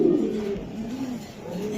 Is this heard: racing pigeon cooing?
yes